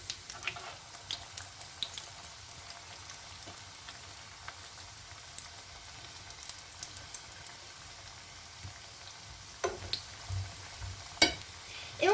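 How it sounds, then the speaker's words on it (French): Chicken nuggets frying in oil in a pan, a faint, low hiss with sparse, irregular crackles and pops scattered across the stretch, growing a little busier toward the end. "pour les faire cuire, on va mettre dans une poêle de l'huile. On va allumer le feu et on va les mettre dedans"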